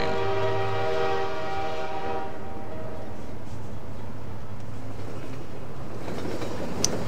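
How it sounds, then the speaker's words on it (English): A slow train in the video game Half-Life 2 sounds a loud horn over the first few seconds, then rolls on as a steady low rumble with no one speaking. "We gotta wait for a train."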